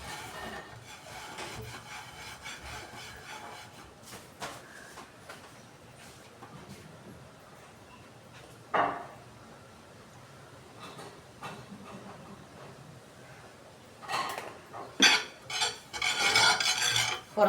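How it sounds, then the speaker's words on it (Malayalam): Sesame oil rubbed by hand over a washed dosa griddle stone, giving soft, uneven scraping and rubbing strokes that start faint and grow louder and denser toward the end, with no voices. "ഇനി ഈ ദോശക്കല്ല് നല്ലപോലെ കഴുകി തുടച്ച ശേഷം കുറച്ച് നല്ലെണ്ണ തേച്ച് വെക്കാം"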